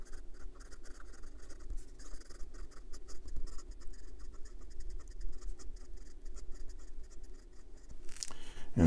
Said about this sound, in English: the nib is very smooth and has some, maybe you can hear it,